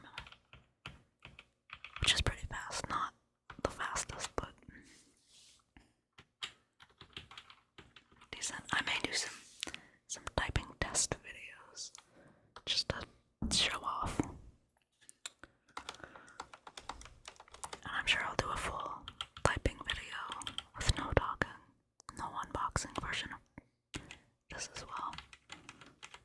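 Fast typing on a Roccat Vulcan 121 keyboard, close, quiet bursts of key clicks with short pauses between, with soft whispering heard among the keystrokes.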